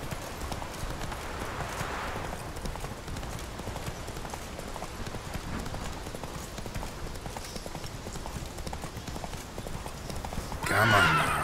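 Horse galloping in the video game Witcher 3, a steady run of rapid hoofbeats at a moderate level throughout, with a short burst of other game sound at the end.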